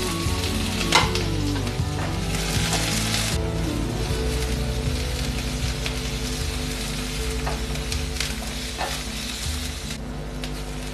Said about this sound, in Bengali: এগুলো একটু আমি ভেজে নেব, সামান্য একটু তেলে নেড়ে চেড়ে নেব।